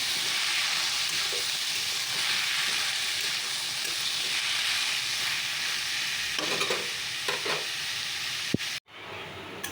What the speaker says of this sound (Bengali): একটু চাল কুমড়ো কেটে নিয়েছি চাল কুমড়ো ভাজা করবো